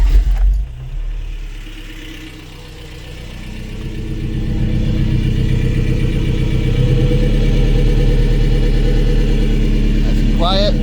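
A 1985 Toyota pickup's 22RE engine with a Flowmaster 50 Series muffler idles with a low, steady rumble and slight grumble, growing a bit louder and fuller partway through, close by.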